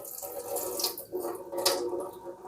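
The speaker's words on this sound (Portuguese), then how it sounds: "Aí eu escorro essa água amarela." Yellow starchy water drained off grated cassava while making a cassava cake, a steady close trickle and splash of liquid pouring with small drips, fairly quiet and continuous.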